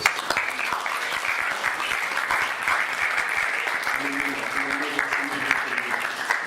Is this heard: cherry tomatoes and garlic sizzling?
no